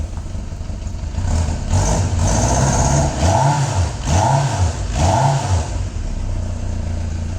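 A 1988 Kawasaki Voyager XII touring motorcycle engine runs steadily close by, with several quick throttle blips rising and falling over a smooth idle.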